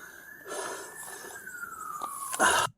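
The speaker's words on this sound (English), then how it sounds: "You want to hear sirens." A police siren wails at a distance, its tone slowly falling, with rushing background noise and a louder burst of commotion near the end.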